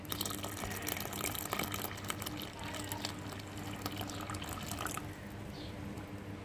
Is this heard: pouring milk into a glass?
yes